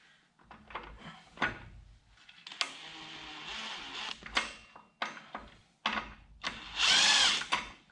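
A power drill with a socket drives a fastener down on a farm part, sounding in several short whirring bursts broken by clunks and handling noise, close and fairly loud, with one longer, higher-pitched run near the end.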